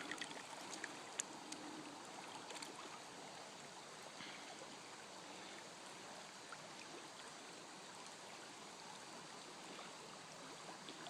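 Black sand slurry, classified down to a quarter inch, flowing through a gold prospecting sluice in Pennsylvania, a steady faint wash of running water with no voices.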